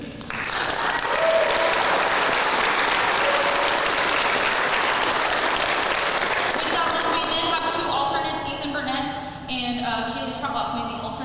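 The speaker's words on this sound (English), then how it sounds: "let's give them another round of applause" Sustained applause from a school spring band concert audience for the ensemble, loud and dense for about eleven seconds, with a voice speaking over the final moments.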